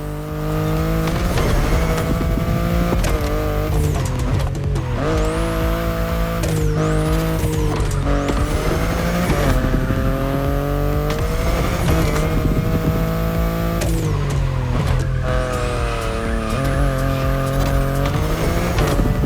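A BMW i8 sports car in the racing game The Crew Motorfest roars loudly and continuously, its engine pitch climbing and dropping through gear changes, with bursts of tire squeal and no voices.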